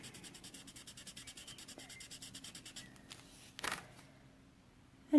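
A colour lifter rubbed back and forth over inked paper during Stampin' Up card stamping makes a soft, steady, rhythmic scrubbing of quick strokes that then stops, with a few brief rustles and a clunk near the end.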